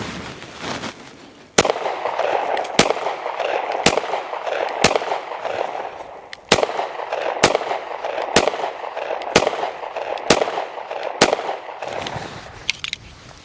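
About ten sharp Smith and Wesson M&P Shield Plus pistol shots fired at a steady pace, roughly one per second, from 5 to 7 yards on a range, loud and crisp with short ringing tails.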